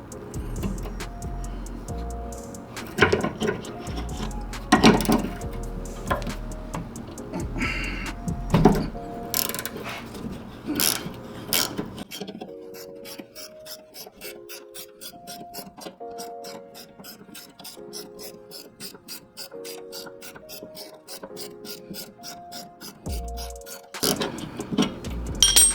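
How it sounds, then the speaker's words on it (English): A 14mm ratcheting box wrench clicks in rapid ratchet bursts while loosening a nut on a car's sway bar link, with metallic clanks at first, then a long steady run of ratcheting, close-up and without talk. "So now I'm gonna use my 14mm ratcheting box wrench."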